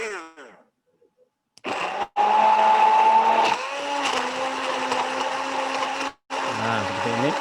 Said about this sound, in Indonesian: Kemudian kita blender ya.